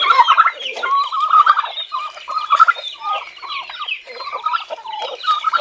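Newly hatched chicks peep and chirp in a dense, overlapping chorus of high, rapid calls, close and continuous with no pauses.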